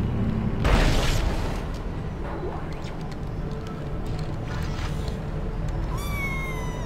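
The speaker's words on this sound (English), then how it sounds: "You guys hear a little meow, that's my kitty, Xena," A cat meows a few times at moderate distance, short rising calls over a quiet room with some shuffling and a brief thump early on.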